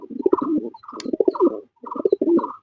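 Pigeons cooing close by in two rounded, throaty bursts separated by a short pause, clear and loud with no other sounds.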